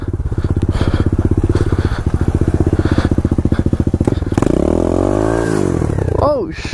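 Pit bike motorcycle doing a burnout beside a sewer drain, its engine pulsing in a rapid rhythmic chug that rises into a sustained revving roar, with a sliding squeal and shouting voices at the end.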